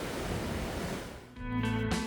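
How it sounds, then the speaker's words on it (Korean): Strong waves crash against the rocks at Hajodae on the Korean coast, a loud, rushing wash of surf that gives way partway through to a steadier tonal background. "제법 거센 파도가 바위에 부딪혀 하얀 거품을 품어내고 있네요"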